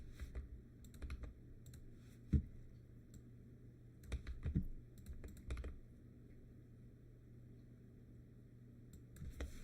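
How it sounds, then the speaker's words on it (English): Fingers tap a computer keyboard in short irregular bursts of soft clicks with pauses between, faint and close, one louder key thump standing out, no speech. "Why am I trying to type this?"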